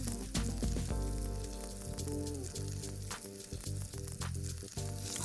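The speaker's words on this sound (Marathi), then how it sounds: "आम्ही मस्त पैकी हे चीज बुलेट्स फ्राय करून घेतोय" Cheese bullets, made from smashed potato, fry in hot oil with a steady, dense sizzle that holds loud and constant throughout, with no voices.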